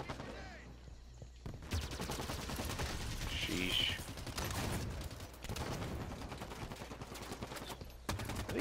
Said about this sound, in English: Dude, I am hearing gunfire outside off the map.